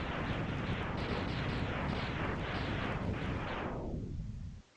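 A dense, roaring video-game explosion from an enemy blowing up in Mega Man X, loud and sustained as a crackling burst before cutting off abruptly near the end.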